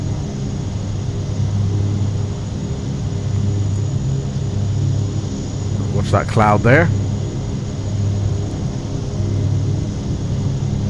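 A steady, droning rumble of the turboprop engines of a Short 360 aircraft in a flight simulator runs throughout, with a brief spoken remark over the engine noise partway through.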